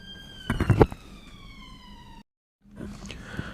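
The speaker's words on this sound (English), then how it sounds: "Sirens, police or ambulance going past." A wailing emergency siren with falling tones passes at moderate distance, briefly cut off, with some muffled noise before it fades back in.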